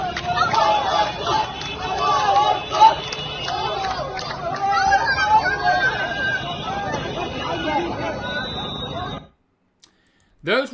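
A crowd of children cheering and shouting in the West Bank, a dense, steady babble of many voices with excited calls, ending abruptly in near silence before a brief final burst.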